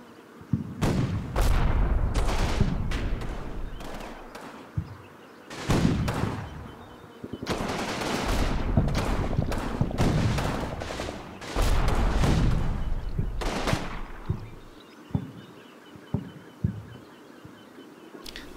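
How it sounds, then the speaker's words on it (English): Battle sounds from the Combat Mission war game, with rattling machine gun bursts and heavy thudding gunfire and explosions rolling on in waves, with brief lulls between. "our machine gun team way over there."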